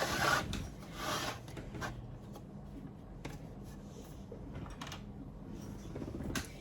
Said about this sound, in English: So we're just going to worry about trimming the outside of this vessel.